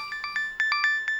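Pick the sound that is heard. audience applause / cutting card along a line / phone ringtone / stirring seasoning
phone ringtone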